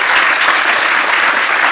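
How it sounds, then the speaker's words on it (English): Enthusiastic audience applause at the grand final of a sustainable chef cooking competition, a loud, dense and continuous burst of many people clapping close by. "A huge round of applause."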